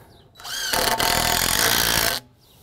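A power tool driving screws into pre-drilled holes while building a wooden pergola, one sustained whirring burst of about one and a half seconds that ramps up and cuts off sharply, close and loud.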